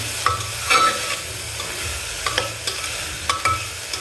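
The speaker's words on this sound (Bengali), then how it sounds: "হ্যাঁ, এটা আর একটু ভাজা হোক, একটু নরম বেশি হয়ে যাক।" Onion softens over low heat in a pan as a base for pulao, a quiet sizzle broken by a few scraping stirs and clinks of a spatula, with no voices.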